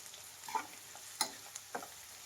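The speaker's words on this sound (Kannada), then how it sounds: "ಈರುಳ್ಳಿ ಒಂದು ಅರ್ಧ ಫ್ರೈ ಆದಮೇಲೆ ನಾವು ಕ್ಯಾಪ್ಸಿಕಮ್ ಹಾಕಿದ್ದೀವಿ" Onion and capsicum frying in a pan for amla rice, a quiet soft sizzle broken by a few short scrapes of a spoon against the pan.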